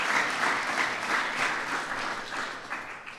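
An audience at a presidential address on the African Growth and Opportunity Act applauds, a steady, dense wash of many hands clapping at moderate distance that holds throughout, with no talking.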